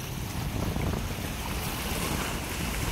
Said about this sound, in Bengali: সাগর প্রচন্ড হাওয়া, প্রচন্ড বাতাস চলতেছে আজকে